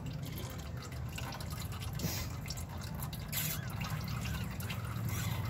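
Hydraulic fluid drips and trickles from a 1973 Ford 2000-4000 series tractor into a bucket, a steady close liquid dribble over a low engine-like hum, with no talking.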